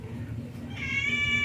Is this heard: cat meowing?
yes